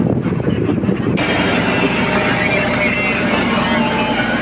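A boat engine drones steadily while heading home across a rough, windy sea, with heavy wind rushing over the microphone and a brief change in the noise early on.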